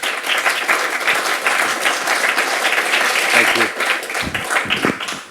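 A museum audience gives a loud, sustained round of applause for a speaker at the National Army Museum, dense clapping filling the room throughout, with a few voices audible near the end.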